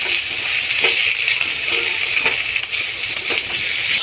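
Kudri (ivy gourd) and potato sizzle and fry steadily in a pan, a loud, close, continuous hiss broken by faint scrapes and clinks of a stirring utensil, with no talking.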